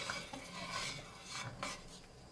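A spoon scrapes and swirls chopped parsley through thick homemade split pea soup in a pot, giving soft, close rasping strokes in a steady rhythm with no talking.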